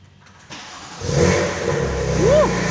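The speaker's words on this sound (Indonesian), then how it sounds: "sekarang kita mau dengerin suara BMW M2 Competition" A BMW M2 Competition fitted with an Akrapovic exhaust fires up from cold, its engine catching with a loud burst and then settling into a strong, steady idle with a brief rev near the end.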